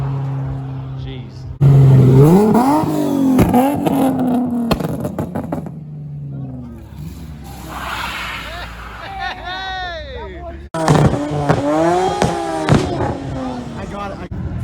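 A Ford GT revs hard at a casino car show, its engine note sweeping up and down in loud, close bursts with a brief gap, over the chatter of a crowd.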